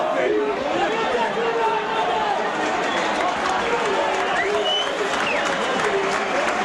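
Supporters applaud an Oldham rugby league player, Terry Flanagan, as he is substituted during a 1986 match against Warrington. The clapping is dense and steady, mixed with crowd chatter, and holds loud for the whole stretch.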